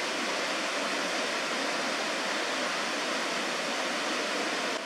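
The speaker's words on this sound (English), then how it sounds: "is the largest waterfall on the Crow's Nest River" Steady, dense roar of Lundbreck Falls, a 12-meter waterfall on the Crow's Nest River in Alberta, split by a small island, rushing continuously and loudly at close range with no voices.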